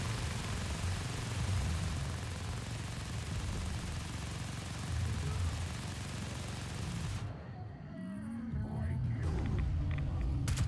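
A quill explosion in Fallout 76 erupts as a sustained loud burst of rumbling, crackling blasts that fills several seconds before cutting off into quieter game sounds and effects.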